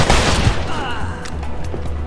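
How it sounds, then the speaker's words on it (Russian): Gunfire in the crime game Mafia 2 during a shootout: a loud burst of rapid overlapping shots opens the moment, followed by scattered fainter reports and echoing noise. "они тупо сходу начали стрелять"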